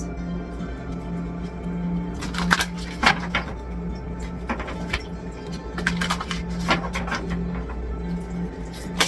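Tarot cards shuffled by hand in bursts of crisp riffling and slapping, in a quiet room with a steady low hum underneath.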